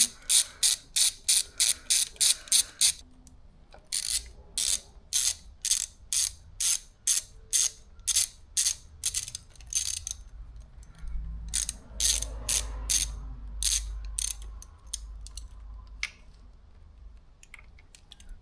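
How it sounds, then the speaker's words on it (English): A ratchet with a T27 bit loosens bolts on a KTM 690 Enduro R, close and loud bursts of rapid clicking in regular strokes with short pauses, under a low engine-like hum in the background. "With a T27 bit, remove the two bolts holding this plate on."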